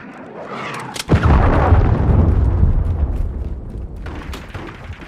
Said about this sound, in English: Friendly cruise missile approaching target.